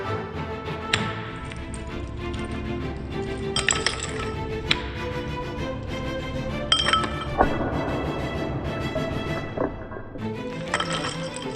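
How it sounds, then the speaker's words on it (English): Cracked ice clinks and rattles into a rocks glass for a grog cocktail, a run of sharp bright clinks and a tumbling cascade, close by over steady background music. "Next, we're going to add some cracked ice to a rocks glass."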